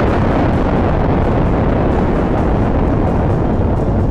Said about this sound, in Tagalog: Si Genos ay biglang nagpakawalan ng malakas na pagsabog.